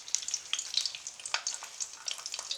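Sausages frying in a pan on a gas stove: steady crackling sizzle with dense, irregular pops and spits, close and fairly quiet, no voices.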